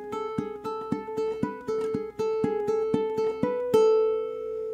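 A single bar of a rock riff plucked on ukulele, brisk even notes ending on a ringing held chord, up close with nobody talking.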